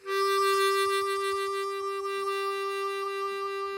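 A harmonica holds a steady draw note, alone and close, with a faint, shallow hand-wah pulsing across its bright harmonics for nearly four seconds.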